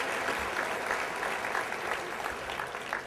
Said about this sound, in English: Let's give them both a nice round of applause for helping.